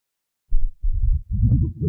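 A homemade materialization sound effect built in Cool Edit: low, pulsing, throbbing bursts that swell in a wobbling rhythm, growing denser and brighter toward the end, heard alone.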